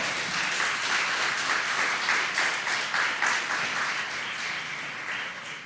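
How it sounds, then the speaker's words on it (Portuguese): Church congregation applauding during a sermon, a sustained wash of many hands clapping at steady, fairly loud level throughout, easing slightly toward the end. "Você pode aplaudir o nome do Senhor?"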